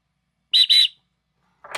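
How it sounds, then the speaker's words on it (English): Two short, bright shrill blasts from a small 3D-printed whistle ring out close and loud in quick succession, followed after a pause by a brief softer rustle. "I printed out a little whistle here for myself."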